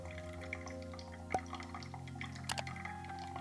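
Water is poured in an even, steady stream over coffee grounds in a Hario V60 dripper, a quiet trickle with a couple of sharper drips and clinks.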